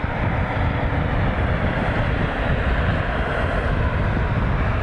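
An airliner taxis toward the Bravo Concourse at Cleveland Hopkins airport, a constant loud engine roar and rumble with no breaks.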